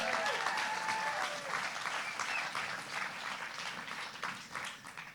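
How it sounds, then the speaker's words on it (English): Party crowd at an indoor summer gathering clapping steadily with some cheering, a dense sustained wash of applause with a few whistles early on. "I think we should all give each other a big cheer for that."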